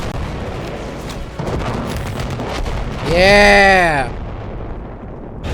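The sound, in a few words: AA gun firing in a video game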